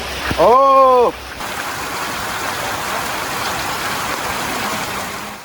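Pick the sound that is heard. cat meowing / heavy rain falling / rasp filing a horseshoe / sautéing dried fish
heavy rain falling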